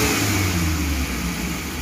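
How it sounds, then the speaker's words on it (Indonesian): Loud, close car engine revving after a spark plug repair, a sustained throaty drone holding high revs and easing slightly toward the end, with no talking. "Nah, kita gas spontan nih,"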